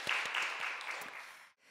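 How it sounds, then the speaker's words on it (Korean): A church congregation at a Wednesday worship service claps for the choir, a dense wash of applause under a reverberant room that fades out after about a second and a half. "할렐루야 성가대에 감사의 박수 하겠습니다."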